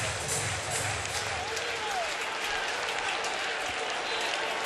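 Enthusiastic early afternoon crowd at a Rockies versus Mets baseball game applauding steadily, a broad wash of clapping throughout with a voice talking over it.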